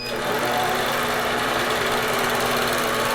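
An IntelliQuilter computerized quilting machine runs as it starts stitching a large pantograph, a loud, continuous mechanical hum and rapid whir holding steady throughout.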